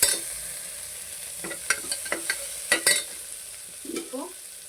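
Four tomatoes sauté in a hot pan, a soft steady sizzle punctuated by several sharp clinks and scrapes of a spoon stirring against the metal, close and otherwise quiet.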